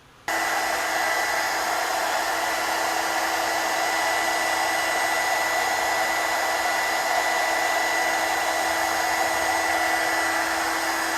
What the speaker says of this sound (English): Now I can slide my heat shrink over there, and let's see how good this TACKLIFE can shrink the tubing.